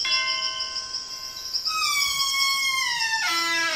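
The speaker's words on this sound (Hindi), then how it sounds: "चलो घंटी बजाए।" A doorbell in a children's cartoon rings as a loud, sustained chime whose bright harmonic tones step downward in pitch in two stages, with no talking.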